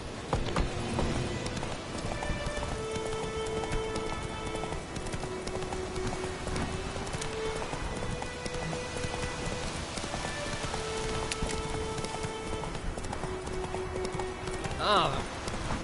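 Hooves of Roach, a horse in The Witcher 3, clip-clop steadily throughout over a rainy game soundscape, with a voice speaking briefly and game music underneath.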